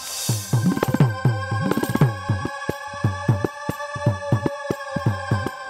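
A telephone rings repeatedly in short, evenly spaced bursts of electronic tones, fairly close and clear, with no talk over it.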